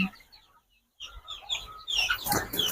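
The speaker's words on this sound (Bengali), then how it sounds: "কিছু ফাউমি মুরগি আছে" Fayoumi chickens kept on a quail farm give short clucks and chattering calls close by, with a brief pause before a louder burst of mixed bird calls.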